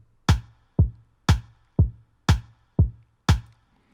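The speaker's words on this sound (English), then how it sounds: "That is just the kick and the rim shot" A steady drum machine beat alternates a deep kick with a sharp rim shot, seven evenly spaced hits in a loop, dry and with no other sound.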